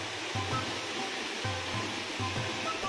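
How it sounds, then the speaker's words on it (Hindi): A waterfall with clear blue water on the Madhmaheshwar trek roars as a steady, broad rushing wash from a moderate distance, with faint low thumps recurring in the background. "ये झरना और ये नीला नीला पानी।"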